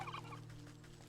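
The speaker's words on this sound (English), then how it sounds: "Bad turkeys." A turkey gobbles once in the video game Wytchwood: a short, clear burst of rapid warbling, loud and alone.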